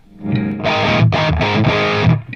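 A distorted electric guitar through a Genz Benz El Diablo 100 amp with reverb off plays a few loud chords in quick succession, sounding dry and close, each cut off sharply without echo.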